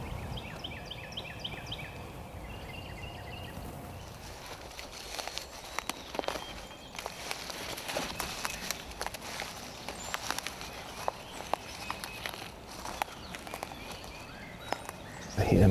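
A deer walks toward hunters hidden at a field edge on a spring turkey hunt, its faint footsteps crunching in irregular soft steps through leaves and grass, with birds chirping early and a close rustle at the end.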